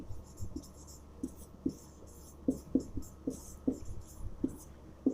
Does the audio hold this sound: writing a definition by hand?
yes